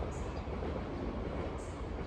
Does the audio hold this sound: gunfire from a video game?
no